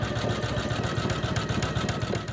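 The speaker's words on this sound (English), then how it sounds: "And the last piece going in is getting its satin stitch." An embroidery sewing machine stitches a satin stitch on a double wedding ring quilt, a steady fast mechanical whir with a rapid needle pulse running continuously and close by.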